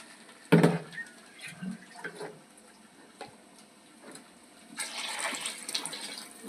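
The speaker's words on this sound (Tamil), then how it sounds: "எவ்வளோ தண்ணி தேவையோ ஊற்றி நம்ம ஊற்றிக்கிறோம்" Water splashes and pours into a cooking pot for duck curry in short bursts, with a louder gush near the start and another stretch of running water toward the end.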